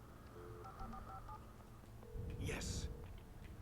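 A telephone in the Alan Wake video game gives a few short electronic dialing tones, followed by a louder burst of ringing, all fairly faint against a low background hum.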